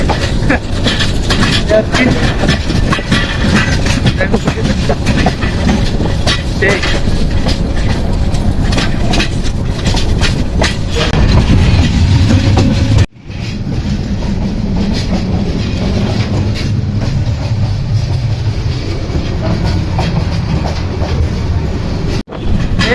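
A crowded Bangladeshi passenger train runs between Cumilla and Brahmanbaria, with steady loud rumble and clickety-clack of wheels on rails, a brief drop around the middle, then continuing motion noise.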